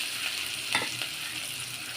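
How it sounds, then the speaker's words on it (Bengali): Chopped onions frying in oil until reddish-brown for a home-style taro leaf dish, giving a steady close sizzle with a brief stirring scrape near the middle and no voices. "দেখতেই পাচ্ছেন পেঁয়াজটা আমার লাল লাল করে ভাজা হয়ে গেছে।"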